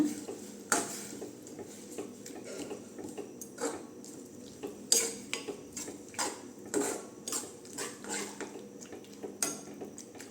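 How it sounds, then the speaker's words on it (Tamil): A spoon stirs banana flower kootu with spice powder and salt in a pan, giving faint, repeated metallic clinks and scrapes in an uneven rhythm against quiet background hiss. "குழம்பு மசால் பொடி சேர்த்துக்கலாங்க உப்பு சேர்த்துக்கலாம் நல்லா கலந்து விட்டுக்கலாங்க"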